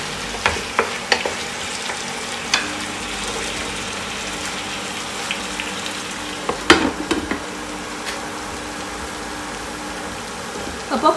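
Chicken pieces sizzle and fry steadily in a pan for chicken thoran, with scattered scrapes and knocks of a utensil stirring, close and fairly loud throughout.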